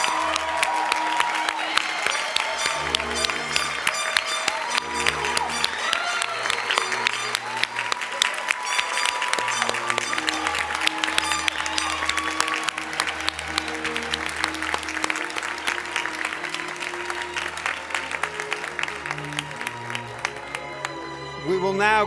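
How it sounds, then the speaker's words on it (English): Sustained applause from a commencement audience greeting pastry and baking graduates, a steady clapping wash lasting over twenty seconds under music, with some speech mixed in. "A round of applause for our pastry and baking graduates."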